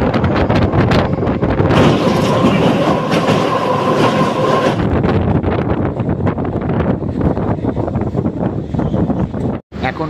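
The 03143 Lalgola MEMU special rolls from Ranaghat toward Murshidabad in cold weather, heard as a loud, continuous rumble with rhythmic wheel clatter and heavy wind buffeting close to the microphone. The noise dips briefly just before the end.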